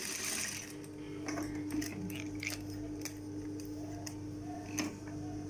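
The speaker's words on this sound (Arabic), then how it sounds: "غنخيط سنتيم حتى كنبدا في الدورة وندير لا غيتم." Sewing machine stitching a cap, a soft mechanical ticking and clatter with a steady faint hum throughout, fairly quiet and close, with no talking.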